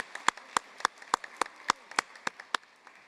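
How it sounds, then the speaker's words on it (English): A single slow, evenly spaced series of claps at a university commencement, around ten distinct hand claps in steady rhythm, fairly quiet against a soft room background. "Now let's give another round of applause for all of our Bachelor of Science"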